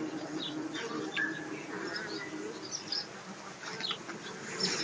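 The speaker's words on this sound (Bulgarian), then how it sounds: "Ето виж, масово излита пчела да работи." Honeybees flying out of a hive in large numbers to go foraging, a steady close buzzing swarm with scattered louder passes of individual bees near the hive.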